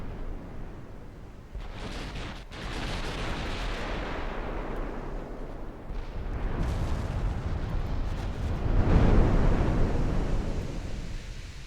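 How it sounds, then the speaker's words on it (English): 14-inch naval guns firing armour-piercing shells in Ultimate Admiral Dreadnoughts, a steady rolling barrage of deep booms with several sharp cracks, building to a heavier, louder salvo toward the end, no talk over it. "I hear those 14s keep going off. And now they're just firing AP."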